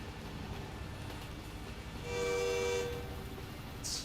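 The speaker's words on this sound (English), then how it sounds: "the train blew its horn" A train horn blows in American Truck Simulator, a single sustained tonal blast standing out clearly over steady low road and engine rumble, followed by a brief bright burst near the end.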